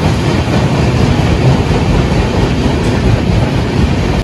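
A Konkan Railway train rumbles loudly and continuously close by as it runs near a tunnel, with a dense roar and faint clattering of the wheels and no voices.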